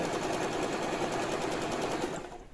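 An Usha electric sewing machine runs a triple stitch with a steady, rapid mechanical chatter, close and continuous, slowing and trailing off at the end.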